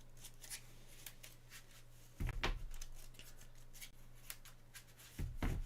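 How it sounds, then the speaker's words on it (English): A deck of game cards for Marvel Champions is shuffled by hand on a table, soft riffling and rubbing with two sharper bursts of card flutter, fairly quiet and without speech. "it's probably shuffled pretty good now"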